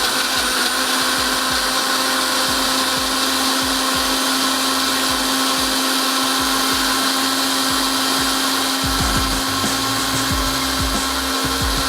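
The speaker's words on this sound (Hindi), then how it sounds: "उसको करते हैं अच्छा सा ब्लेंड" A blender runs at full speed through a banana smoothie with red syrup, a loud steady motor whine with churning, gurgling texture throughout, close by and without speech.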